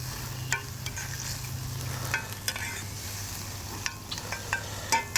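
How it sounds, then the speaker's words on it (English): Corn being stirred in a pan beside frying bacon at an outdoor duck hunting camp, a steady soft sizzle with sharp scrapes and clinks of the utensil, close and moderately quiet, no talking. "go ahead and stir that up. Make sure that corn's looking pretty good."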